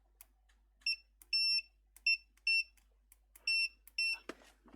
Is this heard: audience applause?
no